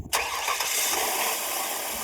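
A car engine cranks and catches after a brief quiet moment, boosted by a portable battery jump starter, then settles into a steady, fairly loud idle with no talking.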